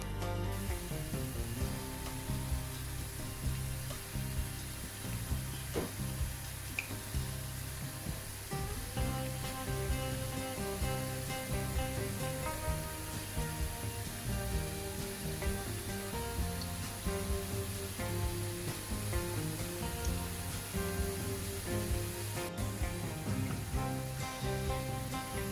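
Honey murukku deep frying in hot oil over medium heat, a steady dense sizzle and crackle that continues evenly throughout, close and unbroken, with no talking.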